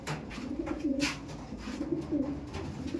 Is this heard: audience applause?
no